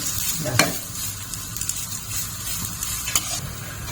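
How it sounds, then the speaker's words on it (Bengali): Rice frying in a pan for prawn pulao, a steady close sizzle broken by a few sharp scraping stirs, no voices. "চাল একদম ভাজা হয়ে গেছে"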